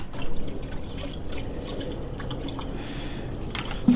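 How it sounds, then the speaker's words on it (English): Water runs into a PORTAVAC portable pool filtration pump on a dolly by Advantage Manufacturing, filling its oversized pump basket. A close, steady wet trickling and dripping continues throughout. "Next, you're going to fill the pump up with water."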